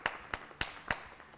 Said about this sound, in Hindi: तालियां आप लोगों के लिए